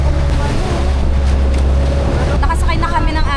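Motorboat ride on open sea off Romblon in the Philippines, a steady loud engine drone with wind buffeting and water wash throughout, voices of a group chatting faintly in the background.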